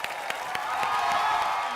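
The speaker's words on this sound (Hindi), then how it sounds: "चलिए जोरदार तालियां" Studio audience applause for Madhuri Dixit on a TV entertainment show, a steady dense wash of clapping with some crowd noise, sustained and loud throughout.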